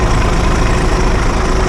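A Volvo B10 bus engine idles steadily at close range, a dense continuous low rumble with no voices.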